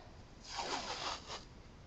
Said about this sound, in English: Get some tape.